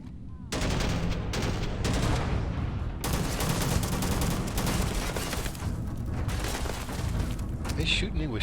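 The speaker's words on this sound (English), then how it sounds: "Are they shooting me with shotguns from that far away?" Shotgun fire in the Starfield video game during a firefight, repeated loud blasts and rattling gunfire in quick succession over dense combat noise, with a voice speaking intermittently.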